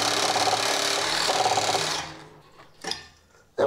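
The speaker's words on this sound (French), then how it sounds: "il fallait utiliser une scie sabre" A reciprocating saw buzzes loudly for about two seconds while cutting at a Peugeot 206 car engine, then cuts out, followed by a few handling clunks and knocks.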